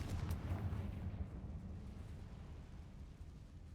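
The Confringo blasting spell goes off in a video game as a low, rumbling explosion. It is faint and distant-sounding, fading slowly into a dull rumble.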